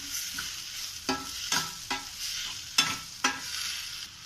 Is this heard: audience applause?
no